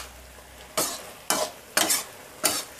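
Thai red curry being stir-fried in a pan, with four distinct scraping, sizzling stirs spaced about half a second apart, close and fairly loud over a quiet background.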